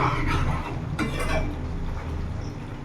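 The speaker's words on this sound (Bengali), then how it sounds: "এবার আমি একটু নাড়িয়ে নেব।" A spoon stirring aloo dum, a potato curry, in a pan: soft scraping and light clinks of utensil on metal close by, with a faint sizzle beneath.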